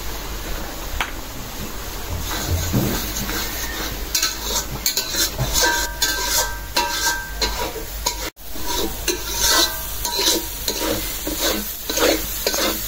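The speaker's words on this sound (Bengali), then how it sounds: "মশলাটা আমি ভালো করে কষাই নিলাম, একদম শুকনা করে" Dry spice masala with cumin powder is stir-fried in a pan, a loud close sizzle under busy, rhythmic scraping and stirring throughout, with a brief dropout partway.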